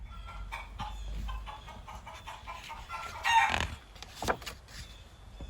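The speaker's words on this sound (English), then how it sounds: "9, 10, a big fat hen." A hen clucks in a short series of close clucks and a brief squawk, played as a nursery-rhyme sound effect with no voices over it.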